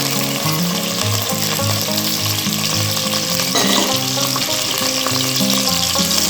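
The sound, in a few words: green chillies, curry leaves and onions frying in oil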